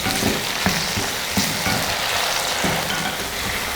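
Tomatoes sizzle in a pan with softened onions for a garlic kuzhambu, a steady dense frying hiss with a few soft stirring knocks, close and without talk.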